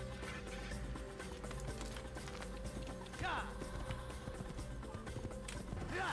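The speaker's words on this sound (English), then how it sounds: "I'm literally riding my horse like a maniac" Hoofbeats from a horse galloping through a crowded Assassin's Creed video game street, rhythmic and fairly close, mixed with game ambience and music, with a couple of brief whooshing accents along the way.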